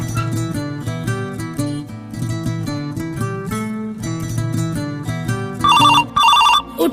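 A phone rings out with a melodic ringtone after a call is placed in a Hindi comedy sketch. The tune repeats loud and steady, then gives way to a brighter trilling ring near the end.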